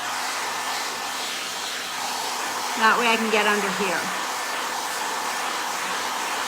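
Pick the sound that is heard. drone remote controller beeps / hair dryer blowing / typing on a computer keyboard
hair dryer blowing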